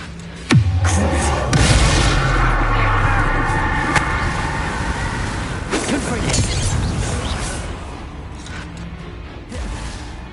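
A Bombarda spell explodes in the video game Hogwarts Legacy with a sharp bang, then a burst of loud, crackling blast noise fades over several seconds. A few further impacts follow, and a voice speaks in the background.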